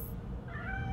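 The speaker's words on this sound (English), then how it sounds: "I do believe we have a guest. Is that a cat?" A cat meows once in the video game Gotham Knights, a short close mewing cry rising over a low ambient hum.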